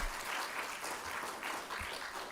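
Sustained audience applause at a memorial lecture, a dense steady clapping from a large crowd filling the room throughout with no break.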